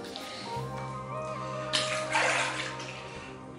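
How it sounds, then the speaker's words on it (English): Water from a tap splashes and runs close by as a face is re-wet before a shave, a steady, moderately loud rush with brief splashes midway. "So I'm just re-wet the face."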